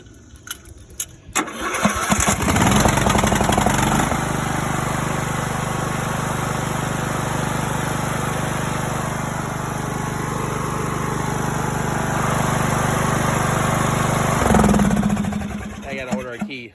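A cheap Craftsman riding mower's engine, just choked, cranks and catches, then runs steadily and loudly for over ten seconds before cutting off.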